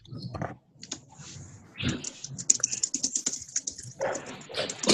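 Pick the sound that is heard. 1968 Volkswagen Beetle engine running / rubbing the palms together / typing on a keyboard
typing on a keyboard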